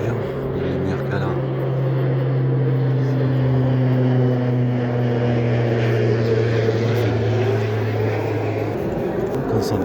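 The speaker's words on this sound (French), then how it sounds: "Joli cet avion." Propeller airplane passing overhead, a steady loud drone with a strong low hum that holds for most of the span and then fades, with faint voices under it.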